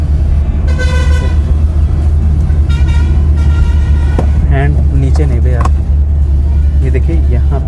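A car horn honks in several short bursts during a driving lesson, loud and close over a steady engine rumble, with a voice talking between the toots.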